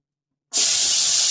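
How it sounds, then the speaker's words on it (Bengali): Small cut pieces of hilsa fish head drop into hot oil, and after a moment of silence a loud, steady sizzling hiss bursts up and keeps going. "আর এখানে ইলিশ মাছের মাথাটা আমি ছোট ছোট করে কেটে নিয়েছি ভাজবার জন্য। আমি এখন ভেজে নিচ্ছি।"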